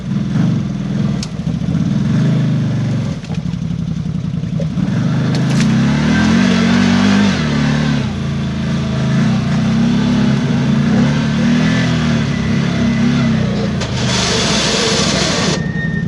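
A CFMOTO Z-Force 950 HO EX side-by-side engine revs loudly and steadily close by, its drone surging and dipping as the clutch catches and releases, with no talking over it.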